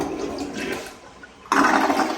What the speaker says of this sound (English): Toilet's flushing.